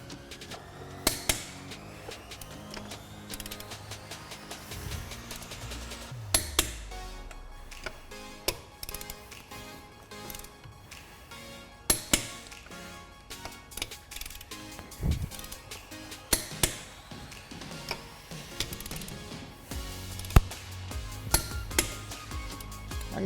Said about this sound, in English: Now it is a torque wrench, so the second you hear the click, that's when you stop.